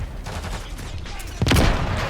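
Bursts of gunfire in Call of Duty: Modern Warfare III, a rapid crackle that swells into a louder, denser volley near the end.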